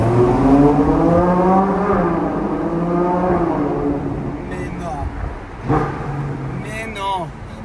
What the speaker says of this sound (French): Mais non, quel bruit! V12 Atmo 800 chevaux, un animal.